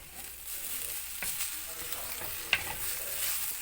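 A raw fig fry sizzles in a pan while being stirred and mixed, a faint steady frying hiss with light scraping strokes and one sharp clink of a utensil.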